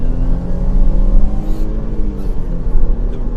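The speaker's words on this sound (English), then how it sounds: "this is how a Grand Tourer is meant to sound." Ford Mondeo ST200 engine revving up under acceleration, a loud, close, throaty roar with rising harmonic whine over three and a half seconds, heard alone without talk.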